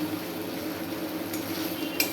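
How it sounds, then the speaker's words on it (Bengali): Prawns frying in a pan with turmeric and Kashmiri chili, a steady low sizzle with faint utensil clinks and a small sharp tap near the end. "চিংড়ি মাছ দিয়ে এই যে ভাজা ভাজা করছি তারপরে দিয়েছি তোমার হলুদ আর একটু কাশ্মীরি লঙ্কা"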